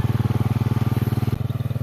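A motorcycle engine thumps in a loud, rapid, steady pulse close by while riding over a badly damaged road. The rhythm briefly stumbles partway through, then carries on.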